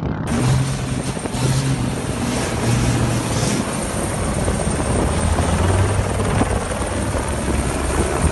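A steady, loud rotor drone and engine roar fills the whole stretch, continuous and close, like a helicopter passing low overhead while filming a Kamaz truck.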